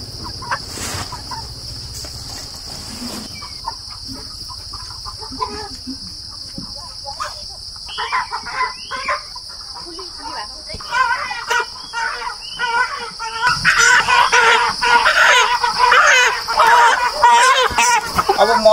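Large red-combed broiler chickens cluck and squawk in irregular bursts that thicken toward the end, under a constant shrill cricket-like hum, with people talking at times.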